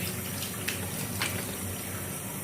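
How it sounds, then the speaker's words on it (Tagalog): Water splashes and runs as someone wets their face at a sink before washing with soap, a steady close rush of flowing water with a few brief louder splashes and no talking. "nabasahin muna natin yung ating mukha"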